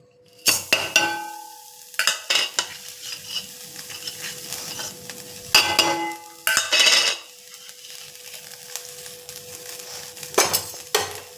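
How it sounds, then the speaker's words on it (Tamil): Salt is dry-roasted in a pan and stirred for a tamarind rice spice powder. Close bursts of gritty scraping and metallic clinks come in irregular clusters, with quieter gaps between strokes and no voices. "உப்பையும் நல்லா வறுத்துக்கலாம். ஈரம் பசை இல்லாமல் நல்லா வறுத்துக்கலாம்."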